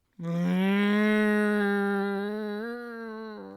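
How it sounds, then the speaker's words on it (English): A single cow moos loud and close in one long, drawn-out, strained call that rises slightly and then slowly tapers off, with no other sounds around it. "that cow sure sounded constipated to me"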